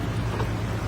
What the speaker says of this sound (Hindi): मुझे यहाँ इंजन की आवाज सुनाई दे रही है।